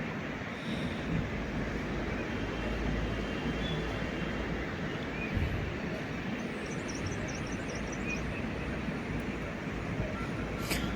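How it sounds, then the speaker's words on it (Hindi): A river rushes past a wooden hotel in Lachung, Sikkim, giving a steady, unbroken broadband roar that holds at an even loudness throughout, with no voices. "नदी की आवाज़ आपको क्लियर सुनाई देगी।"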